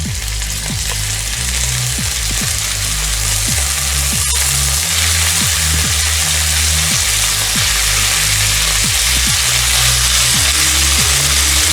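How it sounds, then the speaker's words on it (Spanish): Chicken breast frying in very hot oil for a Peruvian tallarín saltado, a steady loud sizzle throughout with repeated clatters of stirring. "Vamos a empezar a agregar nuestra pechuga de pollo."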